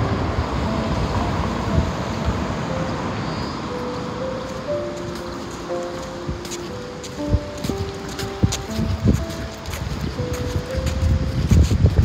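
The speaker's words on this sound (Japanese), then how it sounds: "波の音が気持ちいいな" Sea waves wash onto the shore at Hamasaka Beach campground in Hyogo, a steady, rushing surf close by, mixed with gusty wind buffeting the microphone and some faint tonal sounds.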